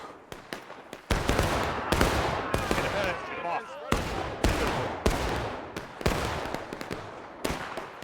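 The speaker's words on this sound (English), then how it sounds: "Load where you stand and fire." Musket volleys in the War of Rights Civil War game's farmland battle, with repeated sharp cracks and rolling gunfire, some near and loud, others more distant, firing at irregular intervals under occasional shouted voices.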